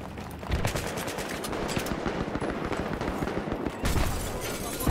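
Dense, sustained automatic gunfire from Battlefield 3 gameplay: rapid overlapping bursts run continuously across the whole stretch, with a louder, closer volley near the end.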